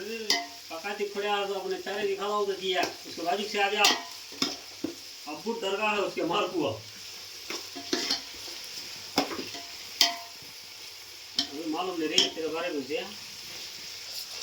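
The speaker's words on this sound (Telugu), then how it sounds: "ముందుగా మనం ఎర్రగడ్డలు నూనెలో వేసుకొని తగ్గిస్తూ ఉండాలి కలపాలి వేయించాలి" Onions frying in oil in a pan while being stirred, a steady sizzle with scraping strokes running underneath a voice that talks over much of it.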